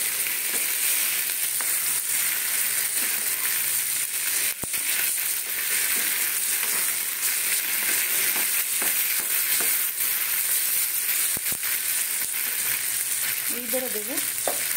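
Chopped green chillies go into meat frying in a pan, giving a continuous loud sizzle with occasional stirring scrapes and clinks, a brief voice surfacing near the end.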